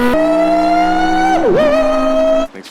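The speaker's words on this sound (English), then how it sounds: "Start it up. All right, let's get some revs in." A Pagani Zonda R engine holds a loud, steady note high and even while revving, dips sharply in pitch for a moment, then recovers before cutting off abruptly near the end.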